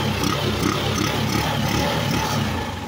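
A Honda TMX motorcycle that sat unused for a long time, its engine idling in a steady, loud, low chugging rumble that runs without a break.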